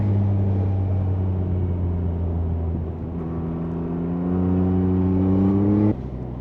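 A 2025 Yamaha MT-09 naked motorcycle ridden through a village: a steady, loud engine drone with a low hum, rising a little in pitch as it pulls, then an abrupt drop near the end, with no talking.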